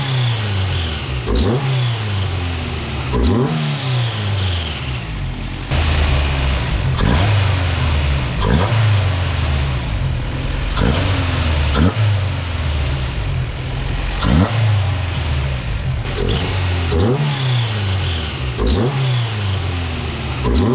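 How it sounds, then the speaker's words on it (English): A Honda B20 VTEC engine with an aftermarket intake revs repeatedly, rising and falling in quick bursts over an idle, loud and close, with an intake roar on each blip. "give it a little baby rev so you can hear the intake doing its job"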